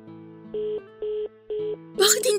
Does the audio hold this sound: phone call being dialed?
yes